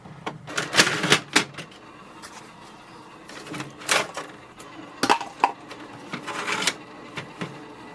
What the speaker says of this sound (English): Load A4 size sheet in the paper tray.